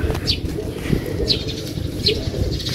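Several birds call outdoors in Barangay Cambassi, with short bright chirps repeating about once a second over a low rumbling background of wind and distant noise.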